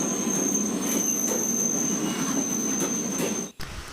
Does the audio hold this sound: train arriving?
yes